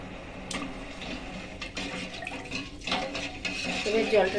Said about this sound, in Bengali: এবার জলটা নাড়িয়ে নিচ্ছি।